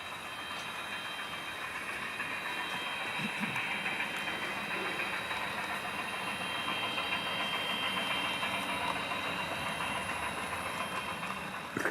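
A model train coasts down a 2% grade on a layout, giving a soft, continuous rolling rumble with faint clicking of wheels on track that holds steady and slightly swells toward the end.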